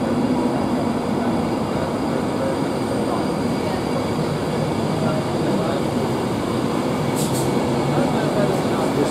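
An Avanti West Coast Class 390 electric train pulls out of Carlisle station bound for London Euston, giving a loud, steady rumble and rail roar that fills the whole stretch, with a brief higher squeal near the end.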